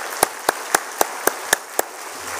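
Seven sharp, evenly spaced claps ring out in steady rhythm in a church congregation during a Wednesday worship service, each crisp and close, then stop, leaving a quiet room.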